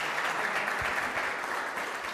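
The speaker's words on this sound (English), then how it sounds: "Let's give him a round of applause." Sustained applause from an audience at a community public-safety meeting, steady and dense throughout, with a few faint voices mixed in.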